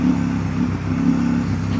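A KTM 890 Rally motorcycle engine pulls offroad in a low gear, giving a loud, close, steady throbbing rumble for under two seconds.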